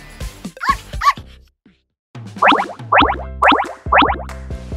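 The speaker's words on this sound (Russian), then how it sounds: "Все верно, это щенок." Four sharp, high-pitched puppy yaps in an even rhythm, close and loud. They follow a few earlier yips and a short pause.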